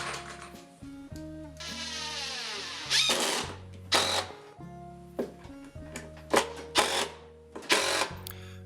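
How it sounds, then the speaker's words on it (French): A cordless drill-driver drives screws through ceiling hangers into wooden joists during a renovation, its motor whirring up and down in short bursts with ratcheting pauses between them, close by and loud. "il n'y a plus qu'à les visser aux solives"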